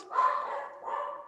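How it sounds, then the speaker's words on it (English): A Cavachon dog gives two close, whiny barks in quick succession, the first longer and drawn out, the second shorter, with no talking. "I'm sorry about the dog, you never heard the dog bark."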